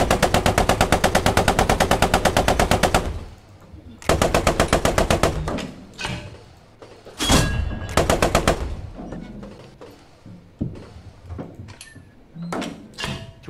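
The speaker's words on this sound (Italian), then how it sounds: "Vai, apri il fuoco." Cannon and machine-gun fire from a Cromwell tank in the game Post Scriptum: a fast, loud rattling burst of about three seconds, then more bursts and single heavy shots spread across the rest, with brief talk in between.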